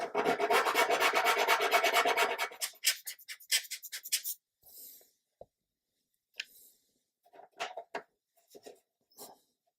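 Quick rasping sanding strokes on a small part of a 1/200 scale Scharnhorst warship model kit, close by for a couple of seconds, then sparse scattered scrapes and taps with quiet gaps between.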